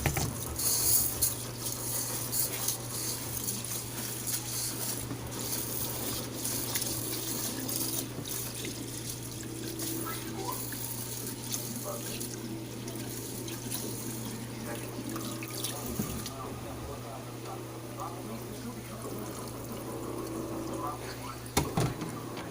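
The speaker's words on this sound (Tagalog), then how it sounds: "Hugasan natin yung malagkit." Glutinous rice being rinsed under a running kitchen tap, a steady continuous rush of water into the sink with light clinks and splashes throughout, with a voice talking faintly at times.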